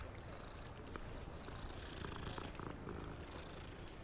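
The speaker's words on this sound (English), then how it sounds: "I'm gonna stop and pet the cat" A cat in the Hogwarts Legacy video game purrs steadily while being petted, a soft continuous rumble with a faint rhythmic texture, quiet and alone.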